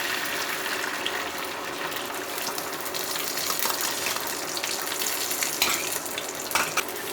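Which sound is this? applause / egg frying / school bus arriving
egg frying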